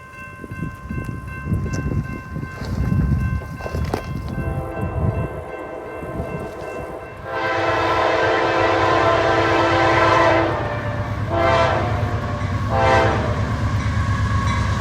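A CSX intermodal freight train on a Georgia railroad subdivision approaches from a distance with a rumbling roar, then sounds a loud sustained horn blast followed by two shorter ones.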